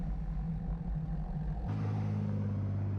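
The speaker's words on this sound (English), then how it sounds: "another option is to let all these vehicles come through" Cars and other vehicles pass through a traffic light intersection, heard from the roadside as a steady engine rumble that swells partway through as more traffic rolls by.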